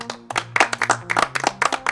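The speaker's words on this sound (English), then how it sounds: "Give yourself a round of applause." Small group clapping in short irregular bursts, fairly close and moderately loud, with a faint low hum underneath, prompted as a round of applause during a talk about jobs and side hustles.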